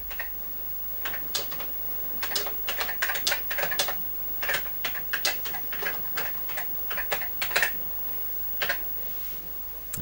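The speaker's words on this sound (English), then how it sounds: "So let's type out our message." Keys clatter on an ICL One Per Desk Computerphone keyboard in quick, irregular bursts of clicks with short pauses between, close and fairly quiet, with no talking.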